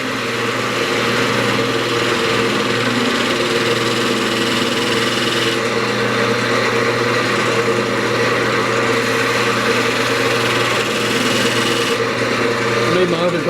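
A skew chisel rides its bevel into spalted pecan spinning on a wood lathe, a steady close mechanical hum and whir of motor and cutting that runs continuously without pause.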